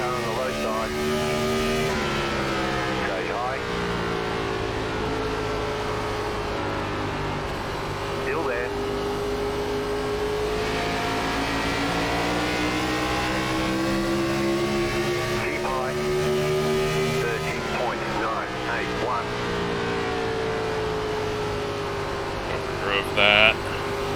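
NASCAR Gen4 stock car engine at New Hampshire Motor Speedway in iRacing, a steady loud droning roar with slowly rising and falling pitch as the throttle is worked, continuous throughout with commentary over it.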